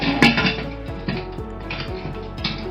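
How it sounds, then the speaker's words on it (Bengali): A metal pressure cooker lid is fitted onto the cooker, making a few close, sharp clanks and metallic scrapes at irregular intervals, with faint ringing between the knocks. "এখন আমি প্রেশারের ঢাকনাটা লাগিয়ে"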